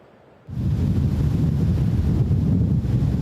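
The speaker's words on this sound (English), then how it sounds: "The wind is also starting to pick up, and we're seeing heavy bands of rain." Strong gusts from Tropical Storm Idalia at Ocean Isle Beach, a sudden roaring wind rush buffeting the microphone with heavy low rumble, continuous and loud after a brief quiet start.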